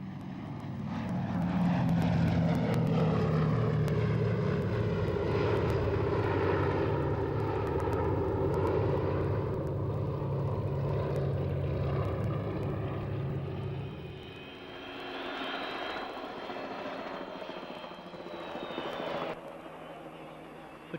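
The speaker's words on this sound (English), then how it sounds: "As the B-17, the star of the film Memphis Belle, gave an extremely low display" A B-17 bomber, the Memphis Belle, makes an extremely low display pass at RAF Leeming Air Fair, its piston engines and propellers droning loud and close, then fading as it pulls away.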